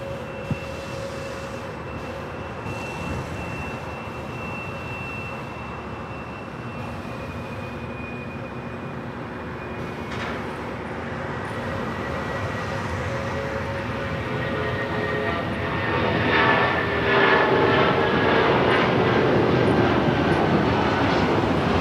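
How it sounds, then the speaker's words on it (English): A United Airlines Boeing 757-300 takes off at LAX, its jet engine roar building steadily from a broad distant rumble to a louder, closer whine with rising tones, continuous and unbroken. "Next takeoff is United Airlines Flight 2724 heading to Denver"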